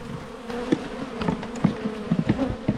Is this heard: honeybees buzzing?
yes